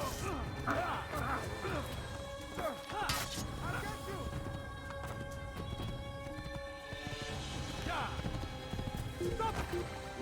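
A horse gallops in the video game Assassin's Creed, its hooves clattering amid crashes, thuds and clashing combat noise, with a voice speaking over the busy scene.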